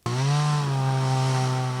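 Chainsaw cutting wood for defence lines around villages in the northern border districts of Ukraine's Rivne region. A loud, close, steady motor whine starts abruptly and holds throughout.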